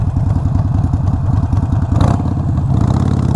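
A Harley Sportster with a small motor and stage 1 tune, its engine loud and close, running with a steady lumpy idle pulse and a brief rev in the middle.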